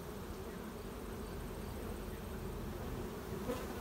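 Honeybees buzzing steadily around open hives in a summer beeyard, a dense continuous drone close by with no talk.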